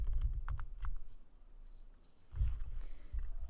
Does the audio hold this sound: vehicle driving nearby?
no